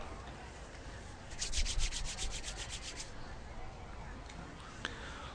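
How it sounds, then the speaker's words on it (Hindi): Two hands rubbed briskly together, a short burst of dry swishing strokes close by, with faint talk around it in a quiet room. "दोनों हाथों को आपस में रगड़ के और अपनी ललाट पे लगाएं"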